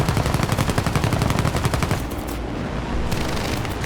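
Aircraft machine guns firing in War Thunder from an Italian P.108B bomber, rapid rattling bursts of automatic fire, loud and close, briefly easing before the chatter resumes.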